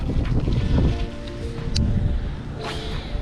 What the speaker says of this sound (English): Sorry for that freaking wind